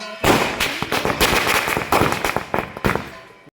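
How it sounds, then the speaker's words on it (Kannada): Firecrackers burst during a village Ganesh Chaturthi celebration, a loud, dense string of rapid crackling pops lasting several seconds before ending abruptly. "ಹೊಡಿತೀನಿ ಪಟಾಕಿ"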